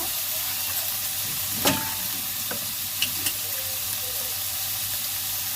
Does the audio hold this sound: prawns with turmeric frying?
yes